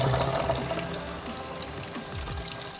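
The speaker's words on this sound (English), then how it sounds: "we got the water circulating around the system" Water flows and gurgles through the cooling system of a supercharged engine, a steady liquid rush with bubbling and low churning, close and continuous with no talk.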